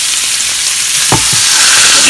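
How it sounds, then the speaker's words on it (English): Loud, constant sizzling of country-style pork ribs searing in hot oil in an electric pressure cooker, with a couple of brief clunks from handling in the pot. "We're searing these, we're not frying them, just searing them."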